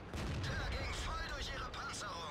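Tank cannon fire echoes during a World of Tanks battle involving a Pershing, an AMX and a Jagdpanther. A dull, rumbling blast rolls on under a commentator's voice for the whole brief moment.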